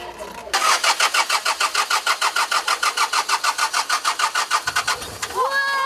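The engine of an old bus, worked on for over six hours, cranks over with a fast, regular chugging starter rhythm for about four seconds, then catches and fires up loudly, close by.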